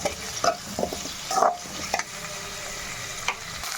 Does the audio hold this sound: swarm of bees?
no